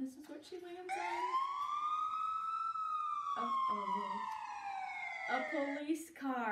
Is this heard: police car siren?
yes